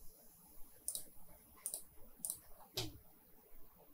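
A computer mouse clicking during 3ds Max exterior modeling: four faint, sharp, evenly spaced clicks over a quiet background, with no voice during them.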